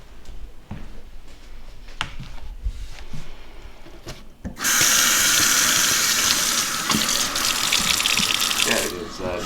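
Warm water runs from a tap into a sink for rinsing a tie-dyed tee, starting suddenly as a loud, steady rushing gush after some quieter handling noises.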